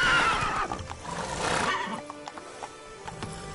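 Horse named Roach in the video game The Witcher 3: Blood and Wine neighing with a loud whinny at the start, then a second whinny, followed by soft clip-clop hoofsteps.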